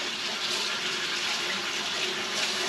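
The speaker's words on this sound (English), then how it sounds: "I gotta wash my hands off." Tap water runs steadily as hands are washed under it in a home kitchen, a continuous close hiss of splashing water without pauses.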